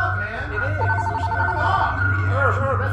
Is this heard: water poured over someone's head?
no